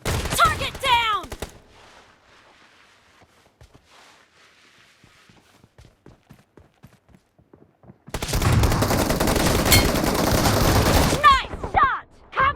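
M1014 shotgun fire in PUBG Mobile: loud blasts open the clip, then a long, dense stretch of heavy firing follows a quieter gap.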